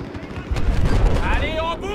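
A C4 charge detonates in Battlefield 4 with a loud, close blast, followed by rumbling debris and lingering whining tones as the explosion fades.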